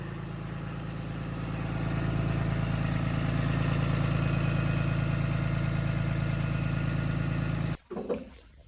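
A Cummins 6.7 diesel engine in a 2014 Ram 5500 idles to warm up with the exhaust brake engaged, giving a steady, loud, close rumble that cuts off abruptly near the end.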